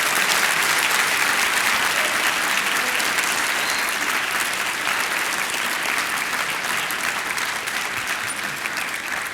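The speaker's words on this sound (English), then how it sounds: "can we give a huge round of applause for Travis?" Sustained audience applause at a business conference, dense steady clapping from a large crowd filling the whole stretch at an even level, with no talk over it.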